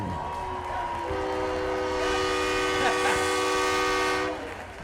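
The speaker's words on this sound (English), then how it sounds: "that train horn scares me every night" A train horn blares in one long, sustained blast lasting several seconds, loud and nearby over a low rumble.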